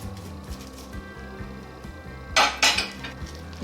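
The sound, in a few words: mixing kachori stuffing with coriander, chilli and spices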